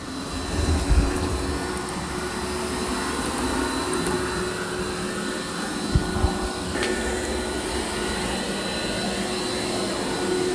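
Dreame X60 Ultra robot vacuum mopping a floor in a back-and-forth crisscross pattern, giving a steady, moderate motor whir with a constant tonal hum and a few small bumps and clicks.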